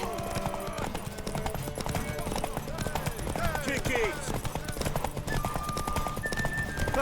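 Horses galloping in a race in the video game Witcher 3, hoofbeats clattering continuously for several seconds beneath shouting voices and a busy crowd-like bed of noise.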